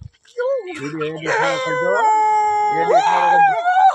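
Two dogs let out long, wavering howls close by on a farm, rising and sliding in pitch, with a short pause between bursts.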